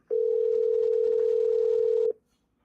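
Steady telephone dial tone while placing a call, a single unbroken hum of about two seconds that starts and stops abruptly, clear and alone.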